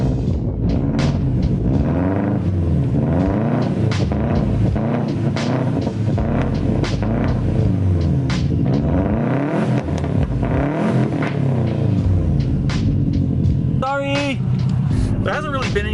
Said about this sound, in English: it's a muffler delete, and it sounds really good